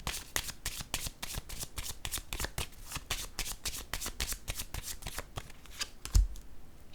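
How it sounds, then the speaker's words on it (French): A deck of cards being riffled and shuffled during a card reading, with rapid, evenly spaced ripping flutters repeating close up and alone, ending in a slightly louder tap. "je vais piger une carte sur elle"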